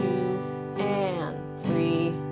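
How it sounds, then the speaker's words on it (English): Acoustic guitar strummed in eighth notes, alternating down strums and up strums, with bright chord attacks ringing out close and clear with no talking. "we're gonna introduce an upstrum between each one of those downstrums"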